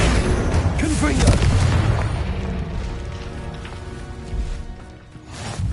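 A blasting spell fired in a Harry Potter–style video game, heavy booming explosions rolling loud and close over several seconds amid dense crackling effects, with a voice calling out spells over the din.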